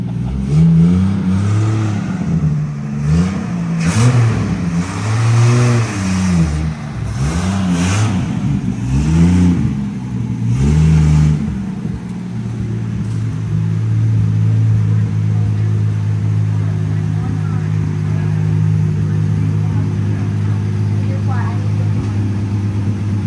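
A 1964 wagon's engine runs close by, revving up and down in repeated surges for several seconds before settling into a steady, rumbling idle, with people talking over it.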